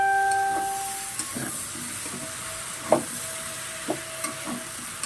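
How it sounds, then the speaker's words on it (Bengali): Vegetables and prawns being stirred in a pan, with a steady background sizzle and several scattered scrapes and clanks of the spatula, close and moderately loud with no talking. "এভাবে ভালোভাবে নাড়াচাড়া দিয়ে"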